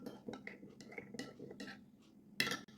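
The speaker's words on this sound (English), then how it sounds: "1 teaspoon of rice flour. Add it to the milk and mix it well." A spoon stirs rice flour into warm milk, clinking faintly against the bowl in a few soft, irregular taps, then one sharper clatter near the end.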